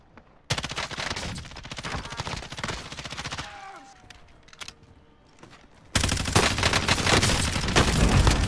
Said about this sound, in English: I'm under fire. Who's shooting?